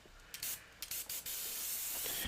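Paint hisses from an airbrush in several short trigger-pull bursts while painting a Grinch piece, ending in a longer steady spray, all fairly quiet and with no talking.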